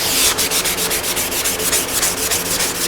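An MGA car body is block sanded for paint prep, giving a loud, close, rhythmic rasp of quick back-and-forth strokes with no voices over it.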